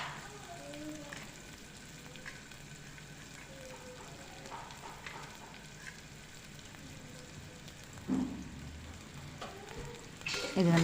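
Chopped onion and spices fry in a pan with a faint, steady sizzle, broken now and then by stirring clatter near the end.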